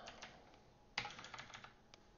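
Fast, fairly quiet typing on a computer keyboard: irregular clicks of keys with one sharper, louder keystroke near the middle, heard close up with no voices.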